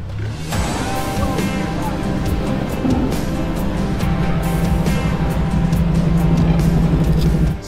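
A lifted Ford Bronco driving off-road, a loud, continuous engine drone with rising revs, crunching terrain and occasional voices mixed in over the motor.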